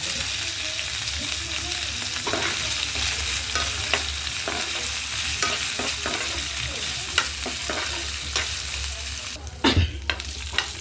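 Green chilies, cumin seeds and chana dal sizzle and fry in a pan of oil for chutney, with steady frying hiss and occasional stirring clicks, plus a louder clatter near the end.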